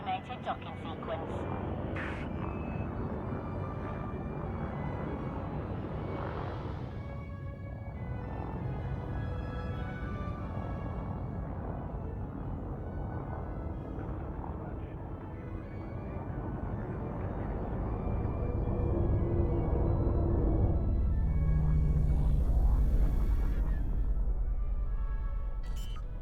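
Spaceship automated docking at a station in the game Elite Dangerous, a low droning engine hum swelling gradually toward the end, under synthetic computer voice announcements.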